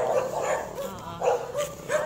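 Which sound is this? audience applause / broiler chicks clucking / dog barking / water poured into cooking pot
dog barking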